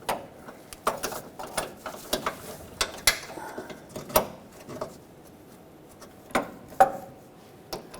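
A breaker bar and socket tighten a radiator body mount bolt on a 2007-2014 Chevrolet Silverado, heard as close, sharp ratcheting clicks and metallic knocks in irregular bursts with quiet gaps.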